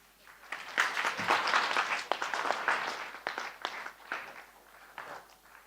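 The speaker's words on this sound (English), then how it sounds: "So a big round of applause to Gaikwad ji." An audience at a national medical conference breaks into applause, the clapping ragged and moderately loud before thinning and tapering off toward the end.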